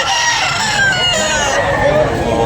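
A rooster crows loudly and close by at a rooster sale, with chatter from several voices in the background.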